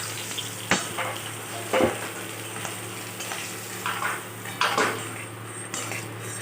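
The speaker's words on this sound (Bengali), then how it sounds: "ভালো করে লাল লাল করে একেবারে ভেজে নেব" Hilsa fish heads frying in a pan of oil, a steady close sizzle with intermittent scraping clinks of a metal spatula stirring and turning them.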